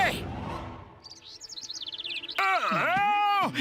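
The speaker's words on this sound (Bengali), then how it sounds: "কি সুন্দর পাখিটা, কোথা থেকে এলো?" A cartoon bird from Motu Patlu chirps in a quick run of high, bright tweets, then a loud, wavering wail-like voice sweeps in and dominates the rest.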